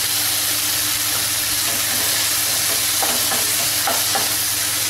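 Mushroom biryani masala with yogurt fries in a pot, giving a loud, steady sizzle and hiss close up, with a few soft stirring scrapes near the end and no talking.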